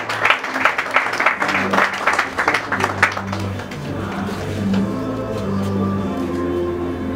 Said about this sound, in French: applaudissez encore en plus que ça.